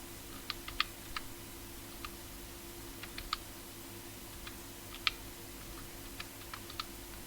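Scattered clicks of typing on a computer keyboard, irregular bursts of keystrokes over a low steady hum, close by and fairly quiet.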